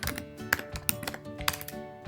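Quick typing on a computer keyboard, a close cluster of light irregular key clicks and taps with one or two sharper strikes, with no voices.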